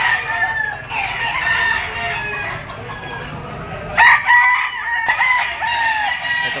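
Crowing from a two-year-old yellow-legged Sweater bloodline gamecock, repeated calls over steady background noise, with a sharper, closer crow near the end and more crowing in the distance.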